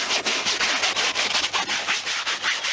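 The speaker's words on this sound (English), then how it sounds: "let that soak in for a minute and give it a scrub." A brush scrubs a cleaning solution into the stained upholstery of an Audi A4 V6 TDI interior, giving rapid, rhythmic, close rubbing strokes that run continuously with no talk.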